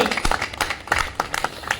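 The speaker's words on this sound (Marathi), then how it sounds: "जेव्हा आपण ही टाळी वाजवतो ना, ही ब्रह्मानंद टाळी म्हटली जाते." Hands clap in a quick, uneven rhythm as a devotional bhajan-style clap, with roughly a dozen sharp, close slaps following one another without a break.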